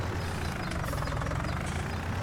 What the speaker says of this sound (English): Now we'll put this tractor up here in the shed